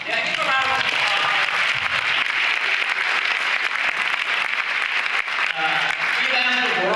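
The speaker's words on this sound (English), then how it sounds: "give a round of applause" An audience at an honors convocation applauds steadily throughout, a dense wash of clapping, with a voice speaking over it at the start and end.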